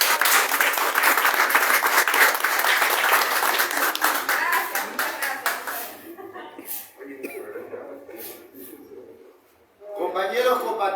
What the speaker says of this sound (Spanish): ¡Palmas, compañeros!